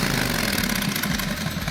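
A Harley-Davidson Evolution motorcycle engine with a ceramic-coated 2-into-1 exhaust runs steadily near at hand, giving a continuous low rumbling idle with no revving and no voices.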